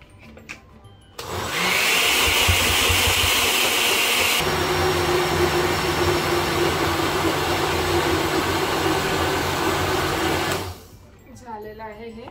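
A mixer grinder whirs loudly and steadily as it blends ingredients into a coarse paste for protein appe, running about nine seconds with a brief higher whine early on before stopping, with faint voices around it.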